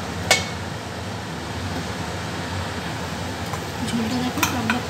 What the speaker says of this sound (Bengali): ঝোলটা দেখো টকবক করে ফুটছে।